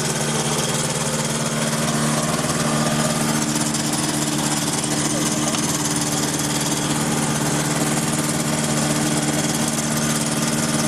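Light aircraft piston engine running smoothly through a climb to 7000 feet at sunset, a loud steady drone with a strong low hum that holds at constant pitch and level, heard alone with no talk.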